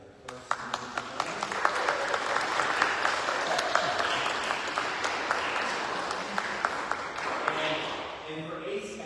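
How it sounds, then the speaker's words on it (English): Congregation applause at a cathedral gathering, sharp individual claps that build into a sustained round of clapping and then gradually thin out near the end. "Could we give a round of applause for Matt being our video tech for the first time?"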